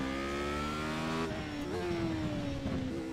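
A race car engine in a racing video game revs at full throttle, a continuous, loud, harmonic whine that drops briefly at a shift and then climbs again, with no speech over it.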